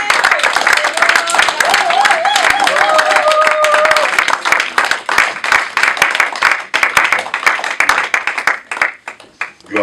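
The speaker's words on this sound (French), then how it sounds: "On acclame le Seigneur." Church congregation at a Sunday service applauding and acclaiming, loud dense clapping with cheering voices and a sung or shouted line riding on top, thinning into scattered claps near the end.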